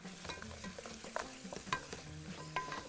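Blended ginger paste fries in a pan for margog, giving a soft, steady sizzle with occasional scraping stirs and light clinks, faint and with no talk.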